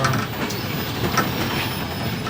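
Inside a train pulling into Bologna station, a steady broadband rolling rumble with faint wheel hiss and a thin high squeal fills the carriage, continuous and moderately loud without speech.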